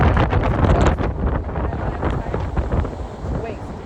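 Strong gusts at Camps Bay beach buffet the microphone in loud, uneven rushes, with surf noise underneath.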